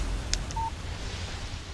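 A phone in the Alan Wake video game gives a short electronic text-message tone, a couple of quick beeps and a brief steady tone over a dull background rumble.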